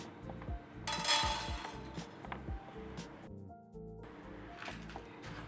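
Peppercorns, about twenty, tipped into an oiled pan while making a home remedy for cough and cold, landing as a quick scatter of small clinks and ticks against the metal, with a brief louder rattle followed by lighter scattered taps.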